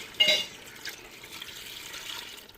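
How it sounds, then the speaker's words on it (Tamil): Water poured into a pot of beef biryani masala, a short splash at the start followed by soft trickling and liquid movement, close and fairly quiet. "தண்ணி சேர்த்துக்குருவோங்க."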